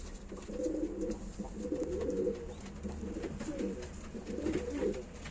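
Domestic show pigeons at a live Turkish auction coo in repeated low throaty bursts, several birds close by, rolling on continuously over background hum with no speech.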